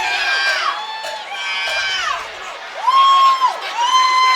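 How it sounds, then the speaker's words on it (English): Spectators at a Chosen Few Fighting Championship bout between Ryan Stevens and Lemar Brooks, cheering for Brooks in loud, rolling swells of shouts and whoops that rise and fall. "the crowd showing their support"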